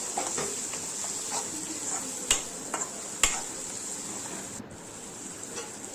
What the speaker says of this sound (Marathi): धने पावडर थोडंसं जिरे पावडर आणि टोमॅटो टाकून घेतले सगळं छान मिक्स करून घेतलं